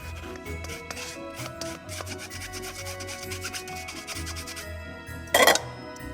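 Icing sugar is sifted through a sieve for royal icing, giving a rapid rhythmic rubbing and tapping, close and fairly quiet, ending in a short louder rattle.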